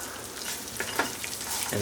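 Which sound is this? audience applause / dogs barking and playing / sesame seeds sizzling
sesame seeds sizzling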